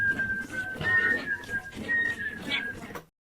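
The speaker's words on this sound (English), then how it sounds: "Back here, there is a whistle." A bright whistled melody rides over a beat in a dreamy hip-hop style track, gliding pitch lines repeating in short phrases for about three seconds before cutting off.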